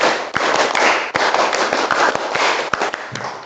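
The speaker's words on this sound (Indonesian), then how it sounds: "Tepuk pramuka satu kali." A class of Indonesian students performs the scout clap pattern (tepuk pramuka) once, a loud burst of many hands clapping together with a few sharper accented claps standing out, fading slightly near the end.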